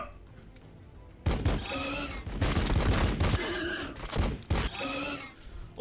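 Heavy battlefield gunfire from the strategy game Warhammer 40K: BattleSector, loud rolling volleys with sharp bursts and thuds that swell and fade in waves, with voices audible beneath the shooting.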